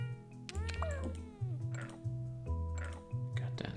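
A large cat in a video game meows several times in short, rising calls over a steady rhythmic background of game music and clicks.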